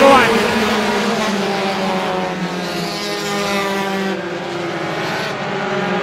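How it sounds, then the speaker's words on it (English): Stock cars roar around an oval track during a Roadrunner feature race at Star Speedway, a dense, sustained engine drone with shifting pitch as the pack circles, while a race announcer talks over it throughout. "Cody Parker takes the lead in the 11 and he's gonna lead lap number one"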